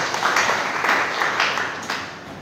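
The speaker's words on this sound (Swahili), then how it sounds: "Chapia Yesu makofi kama unanielewa" A church congregation at St. Peter's Protestant Church in Shimo claps together in a dense, steady round of applause, with a few louder bursts, filling a reverberant hall.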